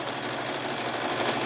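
A sewing machine stitching along the edge of a quilted patchwork journal cover, a steady rapid mechanical whir close by with no pauses.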